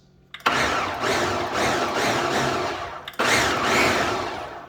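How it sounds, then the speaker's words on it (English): A blender whirs in two short pulses, stopping briefly between bursts, loud and close with a steady motor hum, while pulsing salsa. "listen to the sound of the blender, the sound that it makes"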